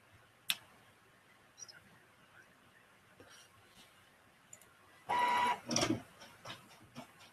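An office printer runs quietly, giving faint scattered ticks and then a short louder burst of mechanical whirring and clicking from the feed, followed by a few more soft clicks in an otherwise quiet room.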